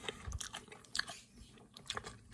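Someone bites and chews a flaky, crunchy-crusted Porto's cheese roll with a sweet cream cheese filling, making soft, close crunching and chewing sounds at irregular moments.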